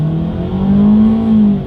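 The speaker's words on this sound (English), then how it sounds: "this engine gets loud when you really put the pedal to the metal here" Inline four-cylinder engine of a 2020 Ford EcoSport accelerating hard, a loud, close, steady droning rev that climbs slightly in pitch over under two seconds.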